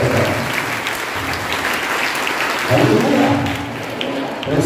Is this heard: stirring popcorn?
no